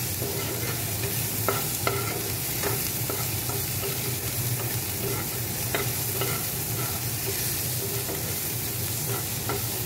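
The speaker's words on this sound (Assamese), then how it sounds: "ভাজি ল'ব ভালকৈ।" Green chillies and a bay leaf fry in hot oil in a pan, giving a steady close sizzle broken by light, irregular stirring taps throughout.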